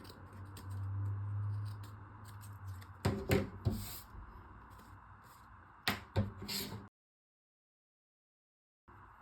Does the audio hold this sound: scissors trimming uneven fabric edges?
yes